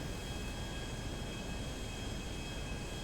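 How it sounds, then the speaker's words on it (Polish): A fixed-wing airplane passes overhead in the video game GTA V, a steady, loud broadband engine roar with a faint high whine holding level throughout, no voices. "Kolejne taki samolot leci u góry."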